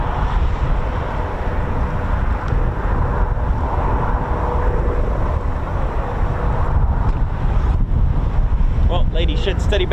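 Steady gusts of wind buffet the microphone on an exposed, breezy vantage point at a flypast rehearsal, a dense low rumble running throughout, with brief voices near the end.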